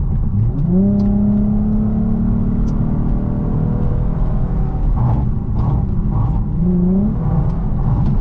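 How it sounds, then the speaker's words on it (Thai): A Lexus IS 250 with a V engine and an upgraded Euro Arts exhaust accelerates hard: a loud, near engine note climbs quickly, holds a steady drone, then surges again toward the end. "ทดสอบให้ดูอัตราเร่งนะครับ หลังจากที่เราอัปเกรดท่อไอเสียยูโรอาร์ตเอกซอเข้าไปนะฮะ"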